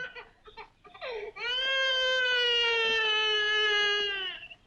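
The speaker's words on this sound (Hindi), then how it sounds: "बच्चे के रोने की आवाज।" A baby cries inside a van, a long, loud, wavering wail held for several seconds after a few short whimpers and gasps, heard alone and fairly close.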